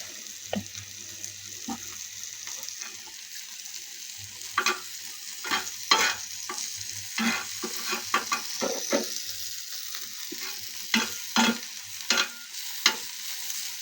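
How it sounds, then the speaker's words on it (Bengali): Green and dried chilies fry together in a pan for a Bangladeshi dried-fish bhorta, giving a steady close sizzle broken by repeated scraping stirs and spoon clicks, with no talk. "সবাইকে একসঙ্গে ভাজি করে নেবো"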